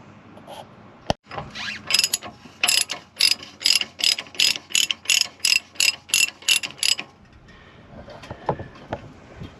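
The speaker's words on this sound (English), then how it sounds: "loosen them with my shorter ratchet handle" Short-handled ratchet loosening the shock absorber bolts on a Promaster van, a rapid run of a dozen or so crisp metallic clicks in steady rhythm, close up, followed by quieter handling noise.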